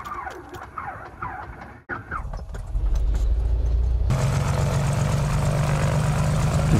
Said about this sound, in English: we'll start the rear engine first